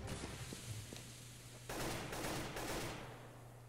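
Gunfire bursts from Counter-Strike: Global Offensive, a few faint pops early and then a louder, denser volley of rapid shots in the second half over a steady low hum.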